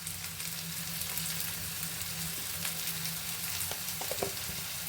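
Chopped tomato and onion fry in a pan with salt added, giving a steady close sizzle with a few faint utensil clicks near the end and no voices.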